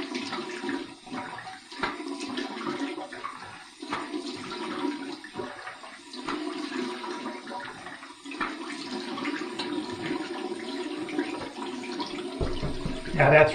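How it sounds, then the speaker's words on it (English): Cold water runs steadily from a tap for a rinse after a shave with a stainless steel open comb razor, a continuous close rushing and splashing with no break. "Here's my cold water rinse."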